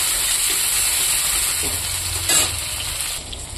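Tomato frying in a pan after browned onions, a steady close sizzle and hiss that runs the whole time with a brief burst of spatter near the middle.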